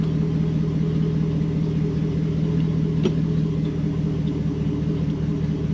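Mercedes E420 fitted with a manual transmission swap, driving in second gear: a steady low engine drone with a deep rumble, close and loud throughout, one faint click midway, no talking.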